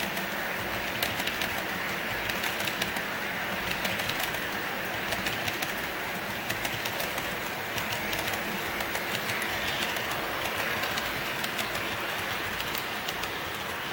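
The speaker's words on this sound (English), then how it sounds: "let's watch this train go by here first" A model train runs along a Milwaukee Road-themed layout, a continuous rolling, clicking rumble of small wheels on track at a steady level, with no voices over it.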